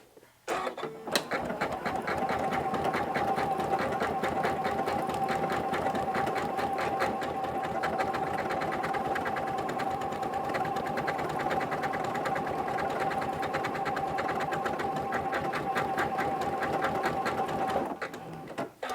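A Janome sewing machine stitches out combined decorative stitches, running at a steady, fast mechanical rhythm for nearly the whole stretch, close and continuous with a faint motor whine, starting and stopping cleanly.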